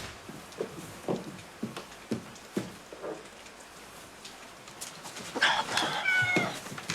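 A cat gives a few soft intermittent meows over a faint ticking, pattering background, then lets out a louder, drawn-out wailing meow near the end.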